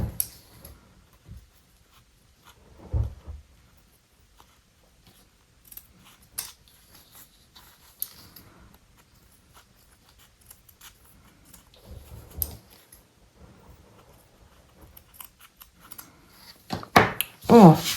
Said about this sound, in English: maybe I should try to trim any corners I might have.